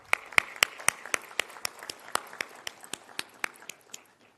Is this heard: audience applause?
yes